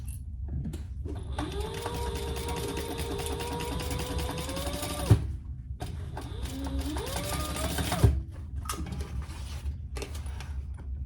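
Sewing machine basting waxed canvas pieces, running in two steady stitching bursts with rising motor whine, a brief pause and clunk between them, then continuing more quietly.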